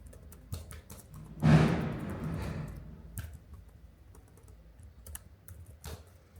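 Rapid typing on a laptop keyboard, a brisk run of light, close key clicks with one louder thump partway through, then scattered taps continuing alone.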